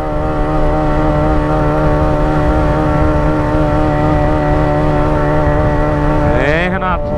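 A Yamaha XJ6 motorcycle rides through a tunnel on a beach trip. Its loud, steady engine drone fills the space, and the pitch slides as the bike passes near the end.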